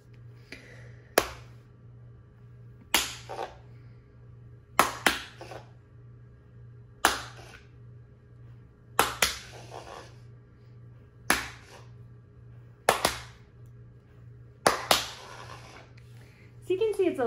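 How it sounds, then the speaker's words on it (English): Sharp single and double hand claps ring out one after another in a quiet room to trigger an Edison educational coding robot, each crack separated by brief pauses, with a steady low hum underneath. "And then I can do some claps."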